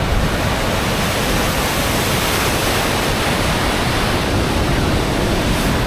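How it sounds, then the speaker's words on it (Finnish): A large waterfall in the Finnish fells roars as a dense, constant, full-bodied rush of falling water, loud and close throughout with no voices. "Ihan uskomaton vesiputous."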